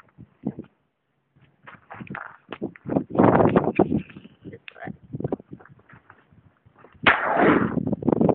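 .357 revolver loaded with .38 Special rounds fired outdoors, with loud close reports standing out among scattered knocks and rustles.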